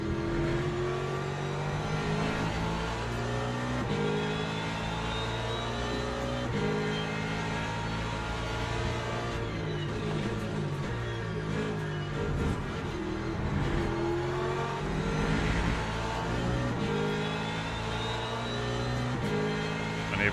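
Racing car engines rev and whine in a sim racing game while chasing a Porsche, a loud, continuous drone of rising and falling gear-shift sweeps with no pauses.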